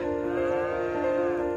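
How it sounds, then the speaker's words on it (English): Cattle mooing in a Farming Simulator 25 gameplay trailer: one long, steady, close bovine moo that holds its pitch for well over a second, then stops abruptly, with no talk. "so we see baby cows. We see full-grown cows."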